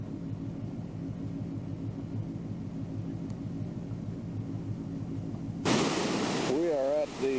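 A wicked, powerful waterfall at Million Dollar Falls on an Alaska river roars as a steady broadband rush, loud and continuous, with a person's voice cutting in near the end.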